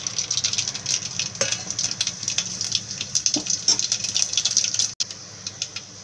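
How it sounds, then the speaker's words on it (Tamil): Mustard and fenugreek seeds dropped into hot oil for an okra kara kuzhambu, giving a steady close-up sizzling hiss scattered with small crackles and pops throughout, with no talking. "இப்போ எண்ணெய் காஞ்சிருச்சு, நம்ம வெந்தயத்தையும் கடுகையும் சேர்த்துக்கலாம்."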